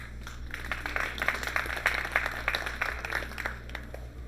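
Crowd applause ripples through the arena at a 10-ball pool world championship final, steady clapping from many hands sustained for several seconds at moderate distance with a low hum beneath.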